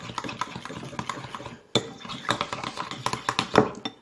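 A spoon stirs a slime mixture with liquid soap in a container, giving a steady run of close, wet scraping clinks with sharper knocks against the sides.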